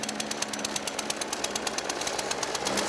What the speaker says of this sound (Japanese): これ草刈り機。